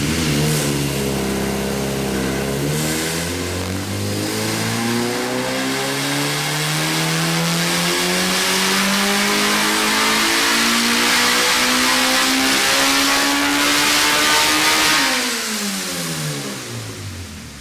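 Honda B16 engine on a dyno run, revving loudly and continuously. The pitch climbs steadily toward high RPM, then drops sharply as the throttle is released near the end.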